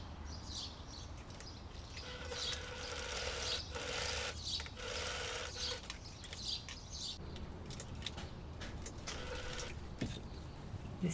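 A sewing machine runs along a pants seam, giving a faint, steady whirring hum broken by short pauses and small handling sounds.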